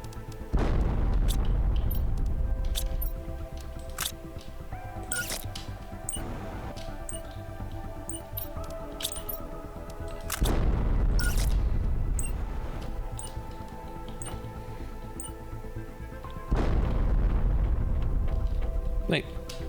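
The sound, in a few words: explosions blowing up robots in the video game Planet Crafter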